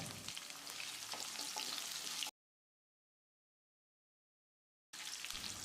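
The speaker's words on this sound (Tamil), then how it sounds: "ஒரு கை அளவுக்கு சின்ன வெங்காயத்தை சேர்த்து கண்ணாடி பதத்துக்கு வதக்கிடலாம்" Close sizzling and crackling of small shallots frying in oil for onion gravy, cutting to silence midway before the sizzle resumes.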